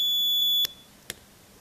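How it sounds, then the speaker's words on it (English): A homemade alarm clock sounds a loud, steady high-pitched electronic beep that cuts off abruptly, followed by a couple of faint clicks in quiet room tone. "So as you can see, the alarm has gone off."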